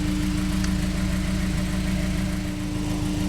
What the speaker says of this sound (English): going to switch on the engine to do this so I don't drain my car's battery